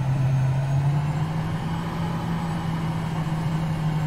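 A Boeing T-45 Goshawk jet engine in Microsoft Flight Simulator runs at a steady low hum, brought up to about 17% throttle, with a constant droning tone and broadband rumble throughout and no voices.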